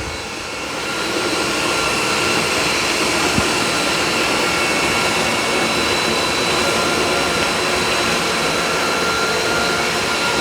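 A Tineco iFLOOR 5 Breeze cordless wet-dry vacuum runs in max mode, giving a loud, steady, broadband whoosh that builds over the first second and then holds even to the end.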